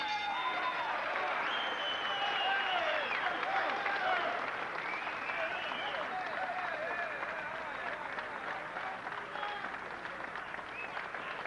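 A boxing arena crowd applauds and cheers the fighters Iran Barkley and Osley Silas, a steady dense roar of clapping and voices filling the whole stretch, with a commentator talking over it.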